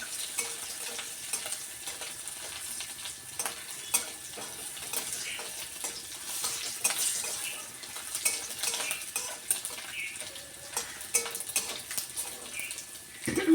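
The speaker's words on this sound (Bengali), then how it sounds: "মাছটাকে একটু বেশি করে ভাজতে হবে" Dried fish frying in a pan, a continuous crackling sizzle with frequent metallic scrapes and clinks of stirring, close and fairly even throughout.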